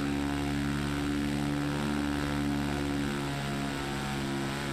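A KTM rally motorcycle engine from the Dakar Desert Rally game drones steadily and loudly with a sustained tonal buzz, and no speech is heard over it.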